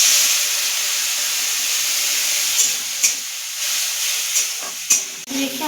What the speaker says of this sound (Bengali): রেখে আমরা মশলাটাকে কষিয়ে নিয়েছি। দেখুন তেল ছাড়ছে।